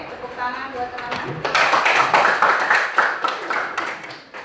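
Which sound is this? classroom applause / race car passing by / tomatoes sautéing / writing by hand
classroom applause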